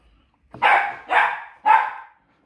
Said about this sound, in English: Dog acting crazy right now.